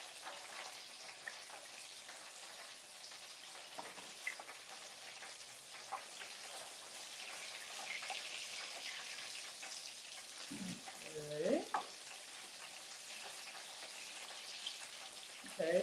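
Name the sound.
deep-frying in hot peanut oil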